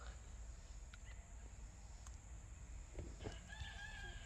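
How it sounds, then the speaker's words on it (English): Several roosters crowing in a farmyard, faint and distant, with drawn-out calls rising toward the end over a steady low background hum and some talking. "The Roosters going insane."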